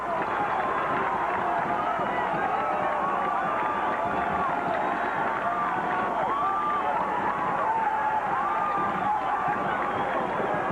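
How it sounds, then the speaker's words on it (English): Football crowd at a high school game roaring and cheering after an interception, a dense sustained roar with whistles and shouts, steady and loud throughout. "Take a look at that scene and listen to this crowd."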